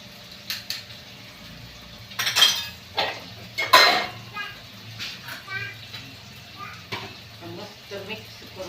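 Chilli powder, turmeric and salt stirred into a pan with a metal spoon, giving scattered scraping and clinking taps against a faint background hum, with brief movement noises between strokes.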